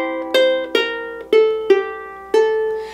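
A ukulele plucks a slow, bright melodic line of five ringing notes, each left to sustain before the next, played alone and close.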